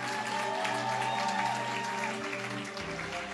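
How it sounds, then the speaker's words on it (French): A church congregation applauds loudly during a jubilee service, sustained clapping spread across the room, mixed with organ or keyboard tones held underneath throughout. "Oui, on peut s'applaudir bien fort, s'il vous plaît."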